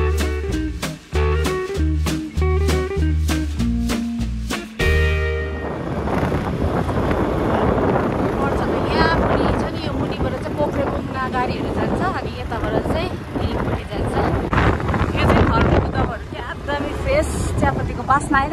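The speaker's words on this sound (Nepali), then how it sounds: "हावा पनि छ नि त यहाँ चाहिँ" Gusty wind at the Wednesday market in Mirik buffets the microphone in a loud, rumbling roar for most of the clip, with a person talking over it; music plays at the start.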